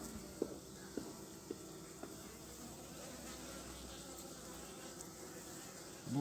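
Honeybees from an opened hive during an early-spring March inspection hum steadily and faintly throughout, with a few soft knocks and handling taps scattered through the swarm's drone.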